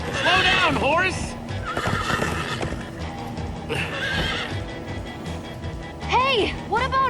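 Horses neigh and gallop in the Minecraft Story Mode video game, with loud whinnies near the start and again near the end over a steady rumble of hooves and bustle, while characters talk.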